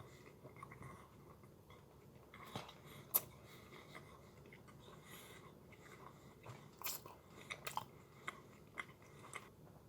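Butter mixed with sugar being bitten and chewed up close, with quiet moist crunches and scattered sharper bites coming through irregularly, and no talking.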